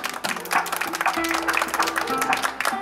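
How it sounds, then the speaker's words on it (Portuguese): Scattered clapping greets a Mother's Day tribute, uneven and moderately loud, while a voice and background music continue underneath. "Pode bater palmas que a nossa homenagem ela merece!"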